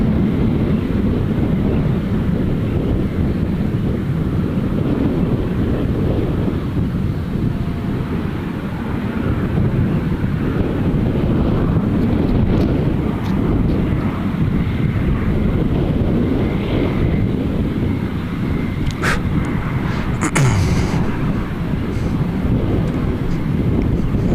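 Strong, steady wind buffets the microphone at an airport as a Cessna comes in to land. The roar is loud and constant throughout, with no clear aircraft sound standing out above it.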